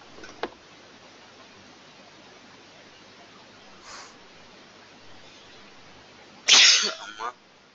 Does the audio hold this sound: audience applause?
no